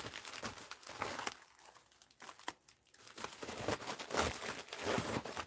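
Rice paper crinkling and rustling as it is unwrapped, in irregular close bursts of crisp crackling with brief pauses between handlings, no speech.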